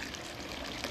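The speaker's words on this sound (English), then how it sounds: "Yeah, you can see the water now flowing in the trap." Water runs steadily through the trap of a backflow preventer, a continuous close, even rush and trickle with no break across the short stretch.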